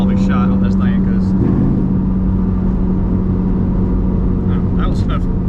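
A 2001 Mustang Cobra engine runs steadily with a constant whining tone over a loud rumble, close by, with a person talking over it.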